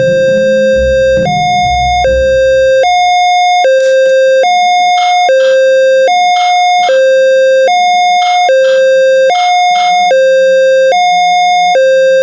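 Railway level crossing alarm on an Indonesian train crossing map in a game, a loud electronic two-tone chime alternating high and low in a steady, even rhythm throughout, with no talk.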